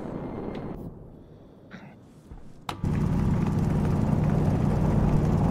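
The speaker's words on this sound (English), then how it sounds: "Jetpack" Jetpack thrust in the space survival game Stationeers, a quieter stretch with brief noises, then a sudden loud, steady roaring rush that holds to the end.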